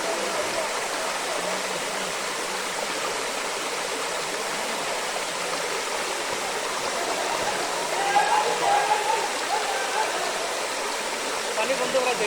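Falling water at Madhabkunda waterfall roars in an unbroken, dense wash of noise, near and even throughout, with faint voices mixed into the spray.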